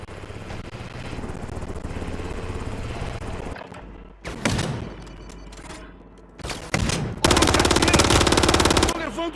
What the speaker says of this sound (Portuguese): Tô levando tiro.